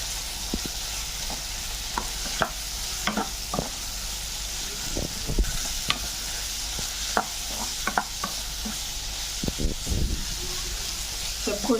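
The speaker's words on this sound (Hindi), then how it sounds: "सारी चीज़ों को मैं मिक्स कर लूँगी।" Spices, garlic-ginger paste and salt are stirred in a hot frying pan, a steady sizzle broken by repeated scraping clicks of the spoon, with faint talk underneath.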